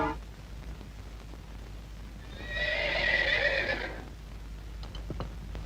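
Horses whinny in a Telugu film scene, one loud, drawn-out neigh rising in the middle of the clip over a low steady background, with no talking.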